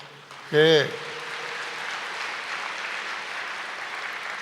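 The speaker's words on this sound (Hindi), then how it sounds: "ये अपने लिए ताली बजाइए" An audience at a Hindi spiritual discourse claps steadily for several seconds as a continuous, even wash of applause, right after a short spoken or sung syllable near the start.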